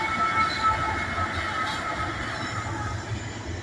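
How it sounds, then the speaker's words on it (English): An empty CSX coal freight train rolls across a bridge over Highway 72 in Abbeville, its cars giving a steady rumbling clatter with a high metallic ring on top, loud and close throughout. "CSX crossing over Highway 72 in Abbeville."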